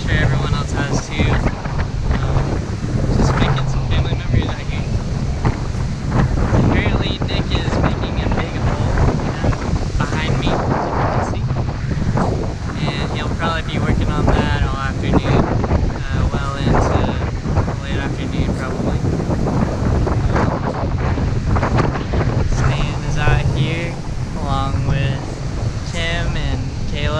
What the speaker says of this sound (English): It's pretty windy out today.